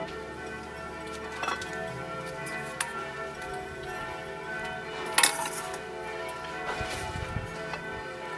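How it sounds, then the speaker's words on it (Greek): Church bells ring for vespers in a Greek village beside an outdoor grill fire, faint and distant, with a few soft ticking and clinking sounds scattered through the quiet. "Πάνε και οι καμπάνες στον εσπερινό."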